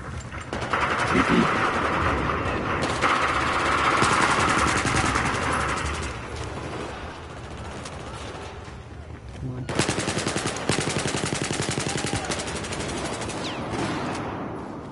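Battlefield 4 multiplayer on PS4, with rapid automatic gunfire in long, loud bursts of machine-gun rattle, a brief lull midway, then more sustained fire.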